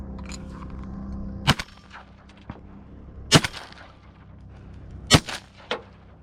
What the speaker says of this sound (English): The old 28 gauge and some Boss 5 shot.